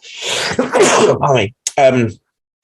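One loud, close sneeze follows a sharp inhale and sounds partly muffled, then a brief breathy exhale and a short sniff come before silence.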